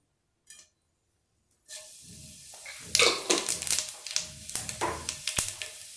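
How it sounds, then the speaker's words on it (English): Fennel seeds hit hot oil in a pan for fried okra, a sudden loud hiss and sizzle that crackles and spits in irregular bursts after a brief quiet tap. "So first of all, I'm going to put in the fennel seeds."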